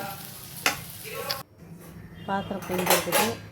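Washed dishes, pots and vessels are put away in a home kitchen, with clanks and knocks of metal ware set down amid steady background noise and a voice talking in between.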